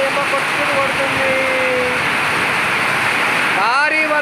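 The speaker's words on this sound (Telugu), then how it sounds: "నా దగ్గర ఫుల్ వాన వస్తుంది చూడండి ఫ్రెండ్స్." Heavy rain pours down in the evening during a power outage, a steady, loud, unbroken roar that fills the whole stretch, with a few thin whistling tones drifting over it.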